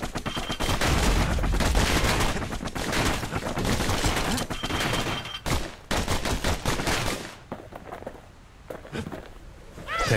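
Dual slinger pistols firing in the video game Bastion: a dense, loud barrage of rapid shots for several seconds, then a pause and a few scattered bursts, with game sounds around them.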